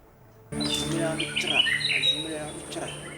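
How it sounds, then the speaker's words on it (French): Birds sing and chirp in the Lanzoun swamp forest in Benin, along the Lan river, with overlapping whistles and tweets starting abruptly and continuing close and lively. "les ramages et les piaillements interrompent tout le temps le silence"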